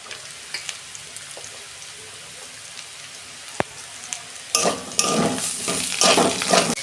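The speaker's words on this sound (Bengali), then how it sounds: "এই যে আমি একটা বড় পেঁয়াজ নিয়েছি আর একটা টমেটো নিয়েছি। এইটা আমি সব এর মধ্যেই দিয়ে দেবো।" Chopped onion and tomato dropped into a hot pan for a Bengali-style gathi kochu dish, a faint sizzle at first, then a sudden loud burst of crackling frying and stirring that stays dense and close to the end.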